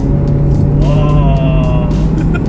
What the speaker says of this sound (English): I just press sport mode. I didn't even press the throttle. The RPM goes up.